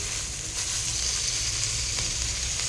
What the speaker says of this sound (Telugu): మనం ఇప్పుడు ఈ ఆకుకూర వేసేసేద్దాం. పొనగంటి కూర, పాలకూర రెండు వేసేద్దాం.